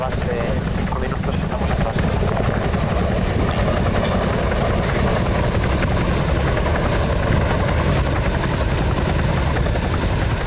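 Helicopter in Arma 3 flying with a steady, loud rotor thump and engine drone that fills the whole stretch, voices talking faintly beneath it.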